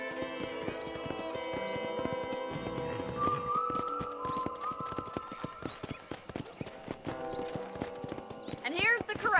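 Steady clip-clop of hooves from several horses walking by a ranch corral, with a short whinny, over busy music and ambient sound in the video game Red Dead Redemption.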